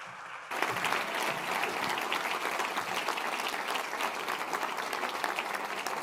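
Dense, steady applause from an audience after a song at a gala wish ball, starting abruptly and holding at a loud, even level throughout without talk.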